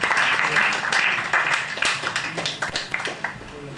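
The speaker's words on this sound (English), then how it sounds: "just give him a round of applause as he leaves the room" A room of dignitaries applauds as President Duma Boko leaves after the SADC treaty signing ceremony, a dense, steady wash of many hands clapping at close range that carries through the whole stretch.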